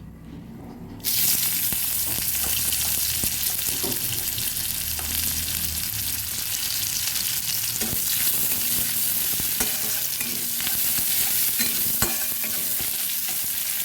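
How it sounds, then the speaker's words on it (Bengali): Chopped onions hit hot oil in a kadai for a shol fish and potato curry, a sudden loud sizzle bursting in after a quiet second and crackling steadily throughout, with occasional stirring clinks. "কড়াইতে আরেকটু তেল দিয়ে দিয়েছি এবার দিয়ে দেব পেঁয়াজ কুচি"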